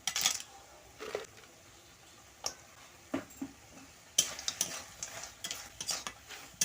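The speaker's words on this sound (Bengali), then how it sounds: "একটু নাড়াচাড়া করে ঢাকনা দিয়ে দেব" A spoon stirs a tomato and grape chutney in a pan, giving sparse metallic clicks and scrapes against the vessel between quiet gaps, with a faint sizzle underneath and no voices.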